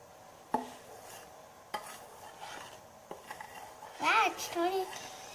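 Homemade Elsa-themed slime being mixed with shaving cream, a soft wet squishing and stirring with a few clicks, faint and close, with a voice briefly over it.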